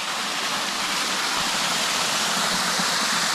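Small waterfall cascading into a pool on Purragulli Creek, a steady close rush of falling water filling the whole stretch with no voices.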